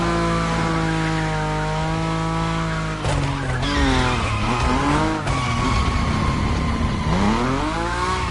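A car drifts in the racing game The Crew Motorfest, its engine roaring loudly and steadily while tires squeal continuously, pitch rising and falling with throttle and slides throughout.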